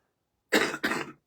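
Two sharp coughs in quick succession, close and fairly loud, with nothing else around them.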